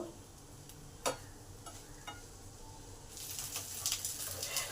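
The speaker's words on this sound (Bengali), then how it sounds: "কোপ্তাগুলো সব উল্টে পাল্টে লাল লাল করে ভেজে নেব।" Fish roe koftas frying in oil in a pan, a soft steady sizzle with a few sharp stirring clicks, growing brighter and louder toward the end.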